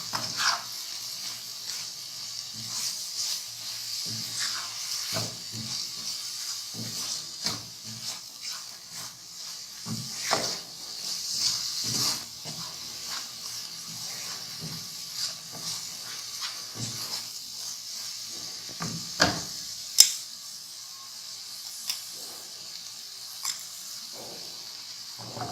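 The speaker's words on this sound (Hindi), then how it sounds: "इसी तरह से ही हम दूध इसमें थोड़ा थोड़ा करके ऐड करते जाएंगे, इसको भूनते जाएंगे" Gajar ka halwa of carrot, milk and ghee sizzling steadily as it is roasted over a fairly high flame, a soft continuous hiss broken by scattered stirring scrapes and clicks, with a voice talking faintly over it.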